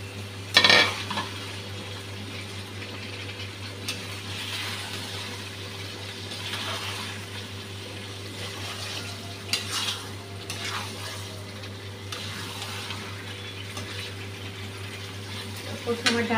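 Chicken pieces frying in a spice masala in a pan give a low, steady sizzle. A constant mains hum runs beneath it, with a sharp clatter near the start and occasional stirring and utensil knocks.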